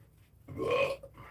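A single loud, drawn-out human burp about half a second long, heard close up against a quiet background with no talking.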